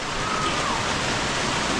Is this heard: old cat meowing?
no